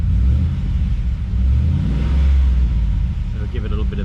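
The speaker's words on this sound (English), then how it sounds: "if I rev it," Holden Commodore VF2 SSV Redline W375 engine revving up close, a steady loud low rumble that swells and eases with the throttle while someone talks over it.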